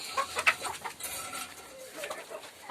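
Hens cluck softly in short, scattered bursts, fairly close, over a quiet outdoor background.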